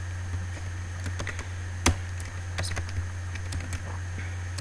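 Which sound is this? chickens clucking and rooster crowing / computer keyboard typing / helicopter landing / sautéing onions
computer keyboard typing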